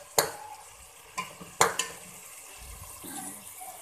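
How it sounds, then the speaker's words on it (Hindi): Chicken being fried in a pan gives a low, soft sizzle, broken by a few sharp spoon knocks and scrapes as it is stirred, close by and without speech. "ये देखिए हमारा चिकन बिल्कुल भून चुका है इसमें"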